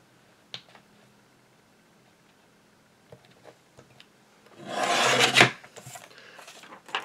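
A paper trimmer blade slides through card stock in one rasping cut of about a second near the end, after a few faint ticks and taps from handling the trimmer.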